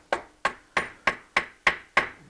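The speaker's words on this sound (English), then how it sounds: "Pull the hammer towards the way you want the aluminum to go." Hammer forming a 6061 aluminum part for a homebuilt aircraft: seven evenly spaced, sharp, ringing metallic blows at about three per second, close and clear, with no talk.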